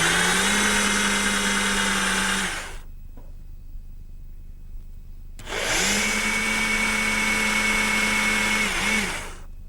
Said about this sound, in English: I'm going to do that using a 1/2 inch brad point bit in my portable drill.